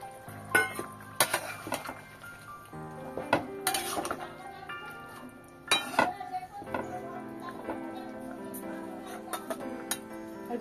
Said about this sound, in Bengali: এবার ভেজে রাখা ওই সজনে ডাঁটা আর বরবটিগুলো দিয়ে দিলাম।